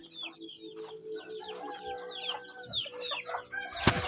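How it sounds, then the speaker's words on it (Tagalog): Several chickens cluck and chatter nearby in a steady, busy flurry, with a rooster calling in the background. "Meron din tayong manok dito sa likod."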